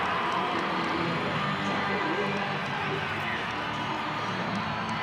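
A massive rugby league crowd at a 1995 Newcastle Knights versus Manly Sea Eagles match fills the stadium with a continuous broad roar, steady and distant-sounding throughout, with no clear individual cheers standing out.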